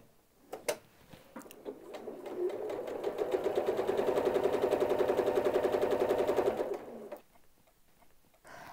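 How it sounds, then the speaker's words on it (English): A sewing machine runs steadily for several seconds, stitching a zigzag line on a quilt with a walking foot, its rapid even needle rhythm close and clear, starting and stopping cleanly with faint handling noises before and after. "I'm going to start out by stitching that exact line."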